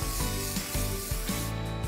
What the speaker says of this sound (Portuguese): Vamos pintar seu cabelo de azul. Portanto, vamos usar esse spray!